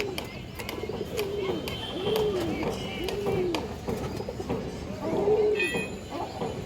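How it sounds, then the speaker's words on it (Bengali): A silver bagha female pigeon coos softly in several repeated rolling calls, close by over faint room noise. "আমার বাসায় একটা সিলভার বাগা মাদি কবুতর"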